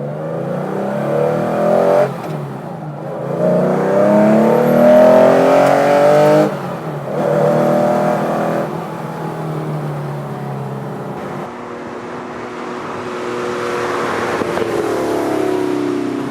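A Porsche 911 ST engine roars through twin exit megaphone exhausts, loud and close, rising and falling through several revving surges with gear-change dips in between.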